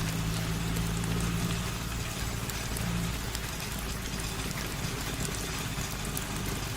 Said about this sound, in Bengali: এখন মনে হচ্ছে এই বৃষ্টি এত তাড়াতাড়ি ছাড়বার নয়